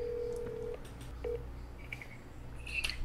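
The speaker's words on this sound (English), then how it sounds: "I'm just gonna do a phone call." Telephone keypad dialing tones as a phone call is placed: several short, distinct beeps at uneven intervals, clear and close, with a brighter tone cluster near the end.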